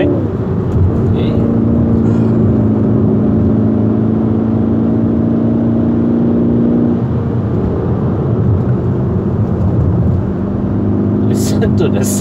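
A Kia Optima GT turbo engine pulls hard during a mountain climb to Genting, its loud, steady mid-pitched drone and whir filling the cabin throughout, with a short dip near the end before it builds again.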